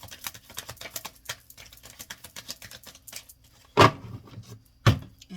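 A tarot card deck is shuffled nearby with quick, papery riffling and soft pattering flicks, broken by two sharper slaps of cards against the pile; no one speaks.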